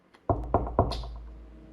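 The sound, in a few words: knock at a front door in an animation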